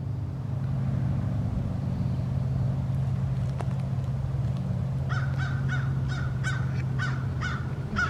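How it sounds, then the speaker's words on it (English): A crow caws in a historic cemetery, giving a rhythmic series of about six harsh calls in the second half. The calls sound fairly close, over a steady low traffic rumble. "I think that crow might concur."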